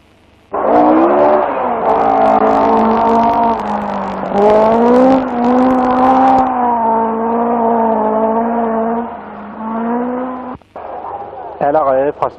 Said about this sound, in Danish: Allerede fra starten køres der fantastisk stærkt.